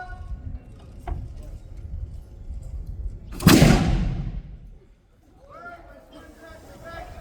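A small-charge 1800s 6-pounder cannon fires a single loud boom midway, followed by a fading rumble, with low crowd murmur before and after.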